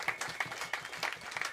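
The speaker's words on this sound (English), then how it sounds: "a big round of applause for Jen and her band" Audience applause for a live band at a concert, steady clapping from a crowd heard briefly and fairly close.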